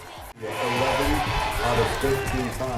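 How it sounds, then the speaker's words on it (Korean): A crowd cheers Korean archers at an archery final in Paris, a dense sustained roar of voices starting abruptly and swelling, with shouts rising above the mass. "우리 선수들을 향한 응원 소리가 파리 하늘을 뒤덮는"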